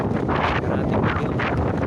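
Strong wind buffeting the microphone during a long bicycle ride toward Manila, a steady loud roar with gusty surges and no speech.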